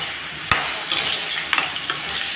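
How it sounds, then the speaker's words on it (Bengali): Potatoes seasoned with turmeric, salt and pepper frying in hot oil, a steady sizzle broken by a few sharp stirring clinks and scrapes. "এখন আমি আলুগুলো ভেজে নিচ্ছি।"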